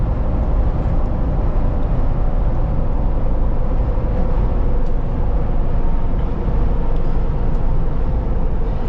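Steady road and tire roar inside a Ford Bronco King of the Hammers Edition riding on big mud-terrain tires, a continuous loud low rumble with broadband hiss and no speech.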